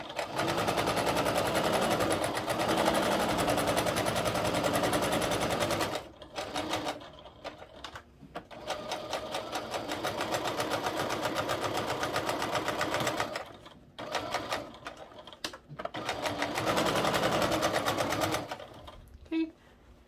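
Sewing machine stitching and backstitching over a strap tab on a fabric travel cord organizer, with long runs of fast, close mechanical chattering broken by brief pauses and restarts.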